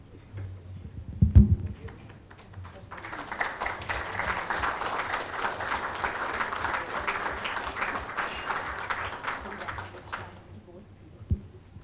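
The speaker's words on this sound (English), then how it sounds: "I think they deserve a huge round of applause" A group applauds at a certification ceremony, steady clapping that starts after a brief thump, swells into a sustained round and then tapers off, with faint voices underneath.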